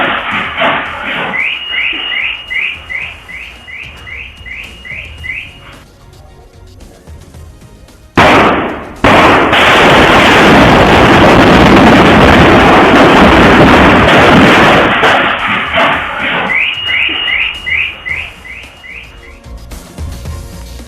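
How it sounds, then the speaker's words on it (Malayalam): A stockpile of temple festival firecrackers explodes as captured by a CCTV camera. A sudden loud blast gives way to a sustained roaring rumble of continuous explosions, with distant chirping birds before and after. "ക്ഷേത്രോത്സവത്തിന് കൊണ്ടുവന്ന പടക്കമായിരുന്നു പൊട്ടിത്തെറിച്ചത്."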